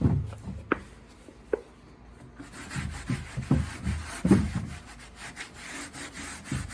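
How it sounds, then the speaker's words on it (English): A cloth rubs oil finish into the worn surface of an old wooden dresser, giving soft scrubbing strokes with a few sharper wood knocks, close and fairly quiet, with no talk over it. "you just rub that into the surface and you can see immediately what it does for it"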